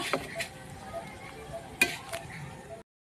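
Faint dry rustling and scraping of moringa leaves being dry-roasted in a pan, with a few light clinks of a utensil against metal.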